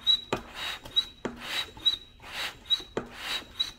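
A Harbor Freight manual fluid extractor sucking dirty oil from a car's oil pan, making quiet rhythmic rasping and gurgling slurps about once a second, close up with no talking.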